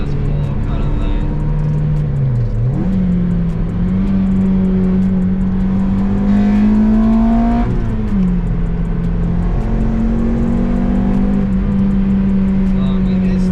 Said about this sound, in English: Just like trying to give it some throttle, see if it like slips again or not.